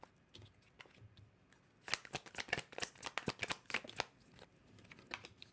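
Tarot cards are shuffled by hand in a rapid run of crisp riffling snaps. They start faint and sparse, then quicken into a dense burst before thinning out again. A voice briefly says a single word.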